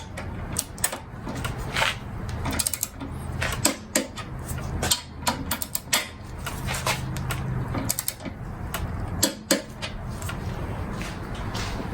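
A torque wrench set to 16 foot-pounds tightens handle bolts on a Beaver Dam Mud Runner mud motor with a Predator 212 engine, giving repeated close ratcheting clicks and small metallic knocks over about twelve seconds.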